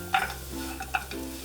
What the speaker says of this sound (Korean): 호두, 아몬드를 넣고 양념이 고루 묻도록 슬쩍 섞어주세요.